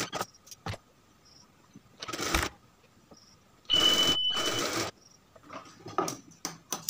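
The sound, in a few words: sewing machine stitching kameez shoulder seam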